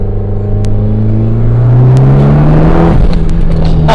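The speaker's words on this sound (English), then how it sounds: "I don't know if the mic's picking up like the blow-off valve and kind of like all the burbles and the turbo noises" A snow-camo wrapped 400 bhp Mitsubishi Evo X with a modified turbo engine revs hard and close, its loud drone climbing steadily in pitch, then easing off into crackling burbles and a hiss near the end.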